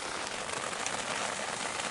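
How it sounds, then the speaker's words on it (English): Light rain falls steadily on a surface beside a 1949 Ford shoebox car, a soft, even hiss of drops with no voices. "A little rain."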